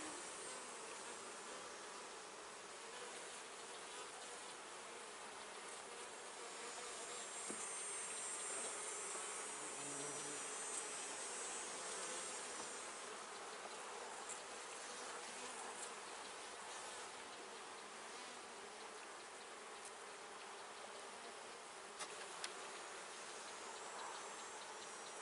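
Honey bees swarm around an open hive frame of brood, a faint, continuous, even buzz without talk.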